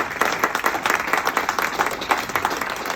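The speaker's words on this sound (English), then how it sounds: "We could even give them a little clap, I think." Short burst of audience clapping for young cross-country athletes, with individual claps clearly audible in an uneven, moderately quiet patter that carries on for the whole stretch.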